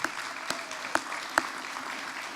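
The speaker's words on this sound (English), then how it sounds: "How about a round of applause for Scottsdale Community College?" Audience applause at a community college event, a soft, steady patter of clapping with a few sharper nearby claps standing out.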